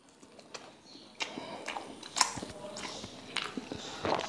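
Crisp bites and chewing on a fried chili bajji fritter from a roadside snack shop, a handful of close, soft crunches and squishy chews at a low level.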